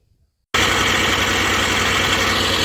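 A tractor engine driving a rotary mower starts abruptly after a moment of silence and runs loud and steady with a constant throbbing drone.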